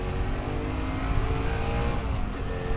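A Honda minimoto motorcycle engine runs with a raspy, slightly pingy exhaust, a steady close buzzing drone with no talking.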